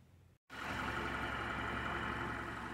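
A repaired car engine, fixed after a low-compression fault, runs at a steady idle, a close continuous hum that starts abruptly after a brief silent cut and holds level to the end.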